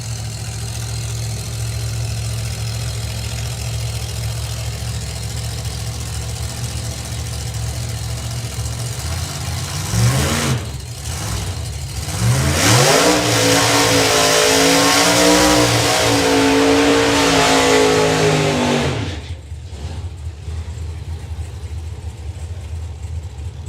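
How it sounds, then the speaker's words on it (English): Drag racing cars at the Easter Nationals meet idle with a steady low rumble, then engines rev hard and launch in a loud roaring surge before dropping back to idle, with no talk over it. "I think Lee might be struggling to hear his own car when he comes into stage"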